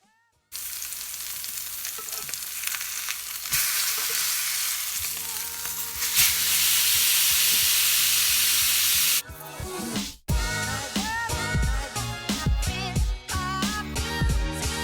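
Steak sizzles loudly in a hot pan, a dense steady crackle and hiss that swells midway, then breaks into sharper popping spatter toward the end, close and without speech.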